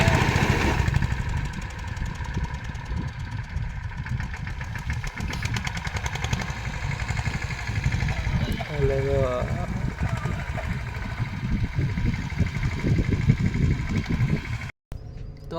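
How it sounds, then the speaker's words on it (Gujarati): A tractor engine runs steadily on a village road, a continuous mid-pitched chugging drone with voices talking over it. "તો એ ટ્રેક્ટર આવી ગયું છે."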